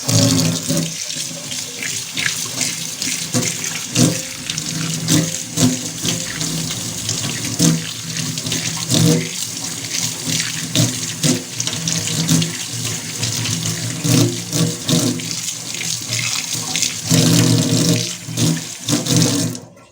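Kitchen tap running steadily into a sink as it is rinsed after scrubbing off grease, a continuous close splashing rush with small shifts as the water hits different surfaces.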